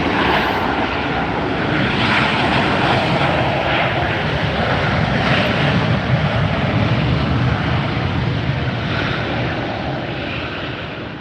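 Airliner jet engines at Los Angeles airport roar steadily, with a broad rushing drone that swells slightly near the middle and eases off at the end, heard alone.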